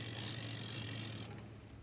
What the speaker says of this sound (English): Now we just unclip the rear winch and wind that up.